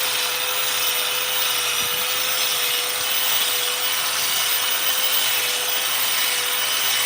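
Continuous harsh, buzzing rasp of a chainsaw carving fur texture into a wooden bear sculpture, loud and close, steady throughout without pauses or speech.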